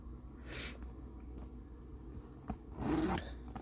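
A handbag zipper is pulled in short, soft rasping strokes close by, with a longer, louder zip near the end.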